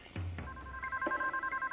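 A telephone rings with electronic tones after a couple of low thumps, its steady beeping pulses repeating quickly and close up in a short burst.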